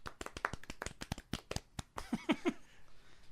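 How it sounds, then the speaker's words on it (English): A small group claps in a sparse, uneven patter of distinct, close hand claps that quickly dies away as people begin talking. "again, round of applause for him."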